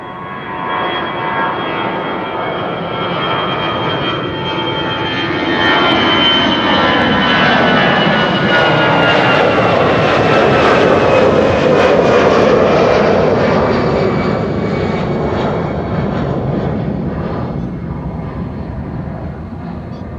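An easyJet jet airliner bound for London Gatwick departs Amsterdam Schiphol Airport, its engine roar loud and steady for the full stretch, swelling slightly as it passes and then easing a little near the end, with no talk.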